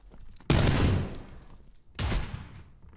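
Two rapid bursts of video game gunfire crackle in quick succession, each tailing off, with a brief pause between them.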